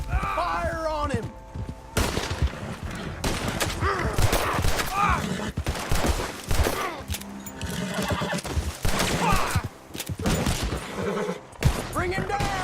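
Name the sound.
gunfire in Red Dead Redemption 2 video game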